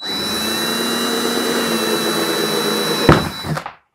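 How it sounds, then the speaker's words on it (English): A power drill bores a hole in a plastic tote: a steady, loud motorized whine runs for about three seconds, then a couple of sharp cracks and a brief surge before it cuts off abruptly. "Just go ahead and start drilling."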